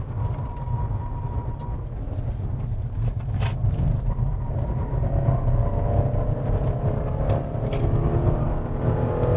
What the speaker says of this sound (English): we teach straight line braking and accelerating in a straight line